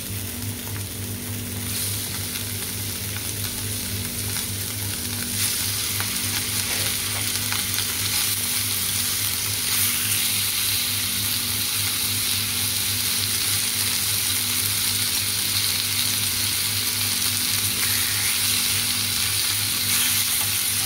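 Chicken breasts sizzle steadily on a hot griddle, a loud, continuous frying hiss that stays even from start to finish with no one talking.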